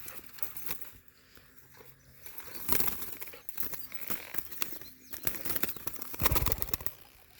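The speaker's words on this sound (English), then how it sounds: "Okay, I just released the pigeon." A released pigeon beats its wings in several quick, flurried bursts of flapping, fairly close and moderately loud, with soft rustling between the bursts.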